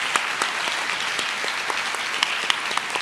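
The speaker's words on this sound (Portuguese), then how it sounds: "Pode aplaudir." Audience applause at a Christian faith talk, a steady wash of clapping from many hands lasting the whole stretch with a few sharper individual claps standing out, fairly close and with no talk over it.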